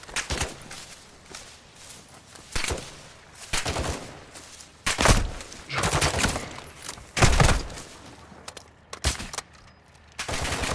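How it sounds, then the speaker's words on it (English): Gunfire in the video game Call of Duty: DMZ, irregular bursts of loud shots and rapid volleys spread through the clip with footsteps between, with occasional player voices. "Taking effective fire!"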